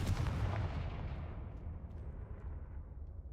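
Confringo blasting-spell explosion from a Harry Potter video game: a loud, booming blast that bursts at once and then rumbles off in a long, gradually fading decay, with no voices.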